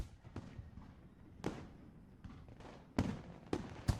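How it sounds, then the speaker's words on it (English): Faint fireworks popping in the visual novel game Katawa Shoujo, scattered soft bangs and crackles spaced irregularly over a low background. "With faint pops, fireworks begin to go off in the sky"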